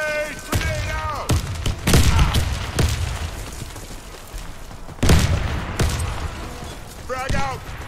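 Grenades and gunfire in a combat video game: a string of sharp booming blasts and shots at uneven intervals, with shouted voice callouts and chatter mixed among them.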